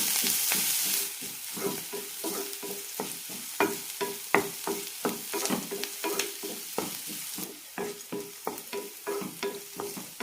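Chopped onion, curry leaves and ginger sauté in a pan for kozhukatta, with a steady sizzle of frying under repeated rhythmic scrapes and taps of a spoon stirring, close and clear.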